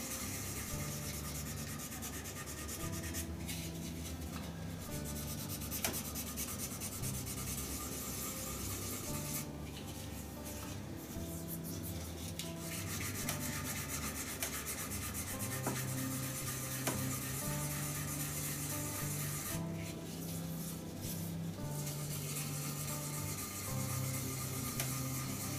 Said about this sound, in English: time for the water sanding now, micro mesh.